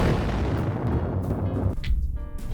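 A loud booming explosion roars close up, then cuts off abruptly into a quieter tail.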